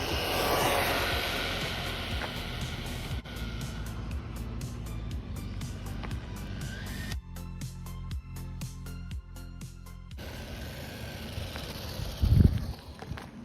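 Jiusi WB12Pro RC car driving at full throttle on a speed run, a continuous high-pitched motor whine that shifts tone partway through and holds at a fairly steady moderate level, with a brief thump near the end.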